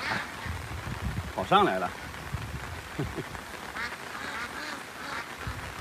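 Runaway ducks and geese from a farm flock quack, with one loud burst near the start and scattered fainter calls after it, under a person talking.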